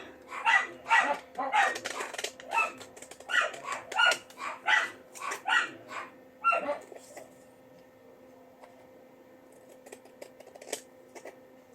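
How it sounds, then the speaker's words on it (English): Several dogs bark in quick, overlapping bursts for several seconds, then go quiet apart from a few faint distant yips. "They've been barking all day long."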